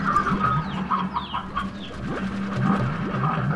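Several video game chickens in Slime Rancher cluck and chatter close by in a steady, overlapping stream, with a few higher squawks over a low background hum.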